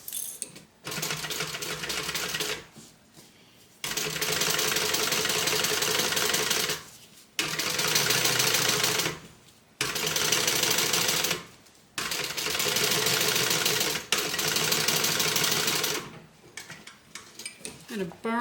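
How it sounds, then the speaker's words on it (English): A sewing machine stitching down a zipper seam allowance on a tote bag, running in several steady whirring bursts of a few seconds each, separated by brief pauses. "And we're going to stitch the seam allowance down."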